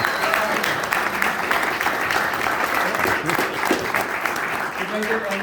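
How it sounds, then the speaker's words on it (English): Steady applause from a crowd fills the space, continuous clapping with some cheering and voices mixed in throughout. "Give her a round of applause."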